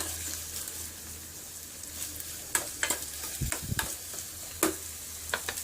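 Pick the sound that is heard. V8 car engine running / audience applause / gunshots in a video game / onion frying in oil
onion frying in oil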